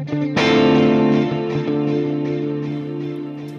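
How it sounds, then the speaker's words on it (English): An electric guitar chord rings through a dotted-eighth chorus echo from the Valhalla Supermassive delay and reverb plugin. It is loud and sustained, with shimmering, wavering repeats that pulse rhythmically and slowly fade. "let's start with this dotted eighth chorus echo"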